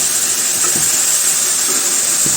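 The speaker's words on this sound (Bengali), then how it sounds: "এখন ভালোভাবে নাড়াচাড়া করে মিশিয়ে নিব আর আস্তে আস্তে ভাজিটা করে নেব" Vegetable bhaji seasoned with salt and turmeric frying in a pan, a constant loud sizzle and hiss with a few soft scraping taps from stirring.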